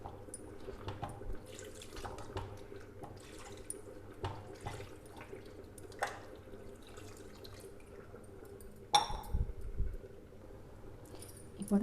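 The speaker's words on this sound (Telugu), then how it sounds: "మనకి అంత వాటర్ యాడ్ చేసుకుందాం" Water poured from a vessel into a pot of country chicken curry, a steady watery splash and trickle running through most of the stretch, with a few louder knocks and clatters near the end.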